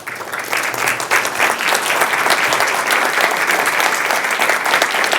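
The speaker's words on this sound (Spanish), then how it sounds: "Fuerte el aplauso para la licenciada María Paula Armándola" Loud, dense applause from an audience at a talk on urban planning, steady and sustained throughout with no voices over it.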